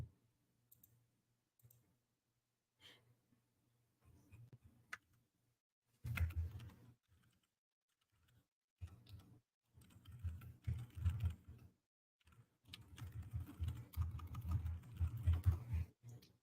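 Bursts of keyboard typing come in irregular runs with pauses of near silence between them, close and fairly quiet.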